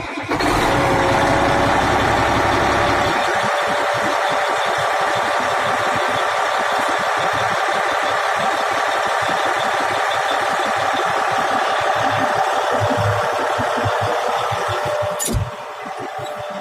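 Caterpillar D8R bulldozer engine idling, a loud, close, steady diesel rumble with a heavy low-frequency throb, rising from a rougher start into an even idle that holds throughout.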